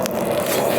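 Chopped vegetables going into a hot wok for chicken fried rice, giving a steady, loud sizzle and scraping hiss that holds evenly throughout, without talk.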